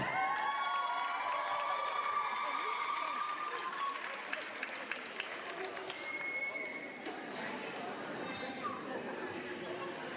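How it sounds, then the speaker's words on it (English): At a graduation ceremony, the audience claps and cheers for a graduate in a dense, sustained burst of applause with shouts, slowly easing off toward the end. "Two programs in Zuma, they got their biggest applause."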